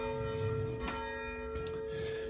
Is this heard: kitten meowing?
no